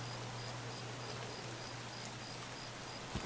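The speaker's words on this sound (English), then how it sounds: "This rain's going to help muffle some of my running sound" Steady rain hiss in the game Escape From Tarkov, a constant wash of noise with a low hum beneath it, running uninterrupted for the whole stretch with one small knock near the end.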